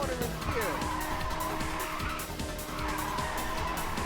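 Car drifting in Ridge Racer 2 on PlayStation emulation, engine drone with rising and falling tire squeal while sliding through corners, a voice talking over it.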